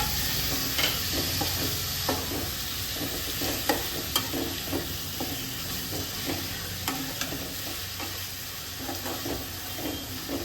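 Chopped tomatoes frying in a pan for paneer curry: a steady close sizzle and hiss, with frequent light scrapes and taps of a spoon stirring throughout and no talking.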